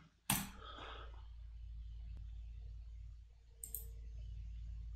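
A single sharp mouse click on a Continue button, crisp and close, followed by a faint second click a few seconds later over a low steady hum.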